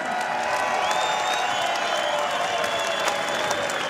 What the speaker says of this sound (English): a round of applause for these two professional heavyweight fighters